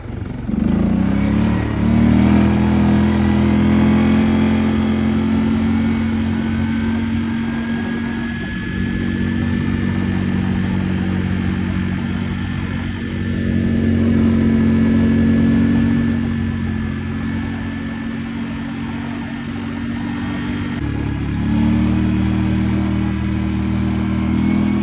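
A 2001 Yamaha Grizzly 600 4x4 ATV with a freshly rebuilt engine runs steadily at idle for the whole stretch, a loud, close, even mechanical drone with a slight dip in level partway through and no talking.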